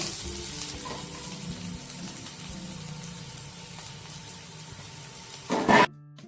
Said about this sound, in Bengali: জিরে ফোড়ন দিয়ে দিলাম পেঁয়াজ কুচিটা দিয়ে দেবো